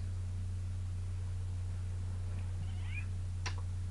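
A single short meow from a cat, fairly faint, rises briefly over a steady electrical hum and hiss, with a sharp click just after.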